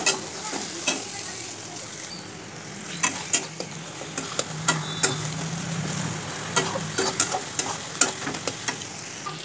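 Masala frying and being stirred in a pan after chopped tomato and green chillies go in for a chicken curry, a steady sizzle broken by scattered spatula scrapes and taps, close and without speech.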